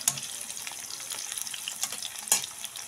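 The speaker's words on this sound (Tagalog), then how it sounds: "Pagkatapos, lagay po natin ating ginger o yung ating luya. Ayan po. Halo po natin. Gisa po natin ulit." Ginger sizzling and being stirred in a hot pan while cooking chicken tinola, a steady close crackle with a couple of sharper stirring scrapes.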